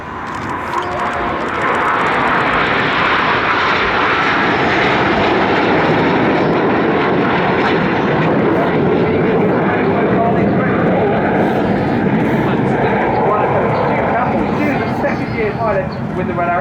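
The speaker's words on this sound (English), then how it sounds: "Now the fifth jet is going to roll around them a dozen times." Red Arrows jets roar continuously through an air display at Bournemouth, a loud, sustained engine wash that swells and drifts overhead while a commentator talks throughout.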